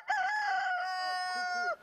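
A rooster crows once in a Detroit backyard, a single loud, close, sustained call of nearly two seconds with a clear harmonic tone and a falling end, heard alone.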